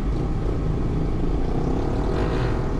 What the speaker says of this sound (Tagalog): Yung aircon lang maririnig mo talaga.